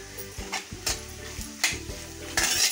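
Dried coconut shreds and crushed peanuts being sautéed in a pan, with a soft sizzle under repeated scraping and clinking strokes of a spoon stirring against the metal.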